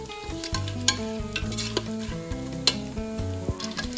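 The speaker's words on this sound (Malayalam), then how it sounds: "ഏലക്കായ, കുരുമുളക് ഇതൊക്കെ ഇട്ട് നമുക്ക് നന്നായിട്ട് ഇളക്കാം." Cardamom and peppercorns frying in a cooker for Kerala ghee rice, a soft sizzle broken by repeated sharp clinks and scrapes of a spoon stirring against the metal pot.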